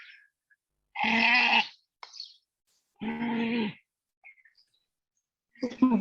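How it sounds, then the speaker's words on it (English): Cows low in the background of a lecture hall, two drawn-out, fairly loud moos about two seconds apart, each lasting under a second, with a few quieter sounds between them. "Today I'm hearing some cows."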